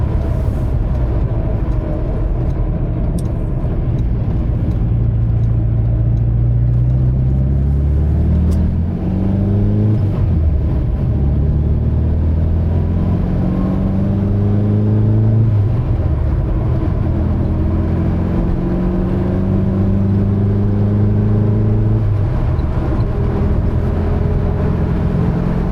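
A signal orange 1973 Porsche 914 Targa with a 2.0L engine and manual gearbox runs steadily, its idle carrying a noticeable cam lope, with deep continuous low rumble and rising, falling revs throughout, close and loud without talk.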